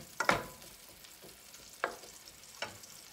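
Onions frying in a pan for chicken feet adobo, faint sizzling with a few short stirring scrapes spaced apart, quiet and close.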